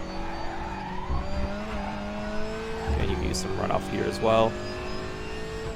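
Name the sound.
WTCR touring car engine and tires in RaceRoom video game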